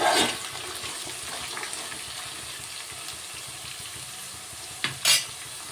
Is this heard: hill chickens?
no